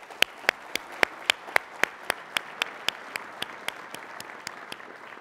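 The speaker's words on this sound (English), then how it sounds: "If I could just have a quick round of applause for Jack, please." Applause for Jack Chason at the NAILBA 36 Chairman's Address: a small audience claps in a steady, even rhythm of sharp distinct claps that gradually fade in loudness over several seconds.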